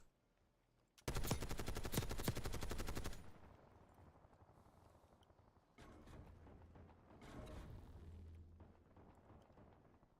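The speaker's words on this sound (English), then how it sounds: "Why is he shooting me?" Gunfire in a shooting video game: a loud, dense burst of automatic fire lasting about two seconds, followed by quieter distant shots and rumbling game sounds, with no voices.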